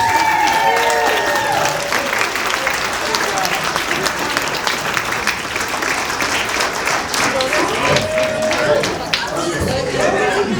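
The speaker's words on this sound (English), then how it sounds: "Give them another round of applause." Audience at a standup comedy show breaking into sustained applause, dense clapping with scattered whoops and chatter, loud and close, running continuously with a voice briefly heard over it.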